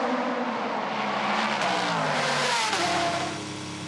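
GTE race cars, an Aston Martin and a Gulf Porsche, battle into a hairpin, engines roaring loud and close with rising and falling revs, gear changes and a downshift as the noise fades slightly at the end.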